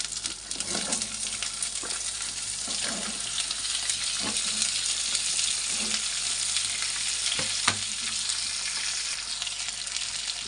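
Pointed gourd pieces frying in plenty of hot oil in a wok, giving a loud continuous sizzle close up, with occasional clinks and stirring knocks and no talk.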